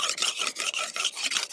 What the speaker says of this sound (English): carefully sharpening his sickle